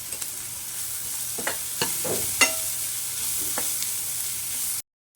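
A spatula stirs cooked rice mixed with red chili masala, turmeric and cumin powder in a pan, giving a few soft, scattered scrapes over a faint, steady background hiss.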